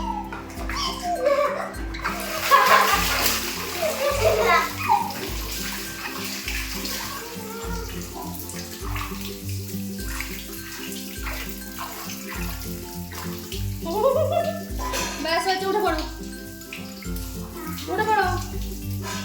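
A young girl splashes and plays with water during her bath at home, giving steady wet sloshing and splashes throughout, with brief bursts of a voice and an adult speaking over the water.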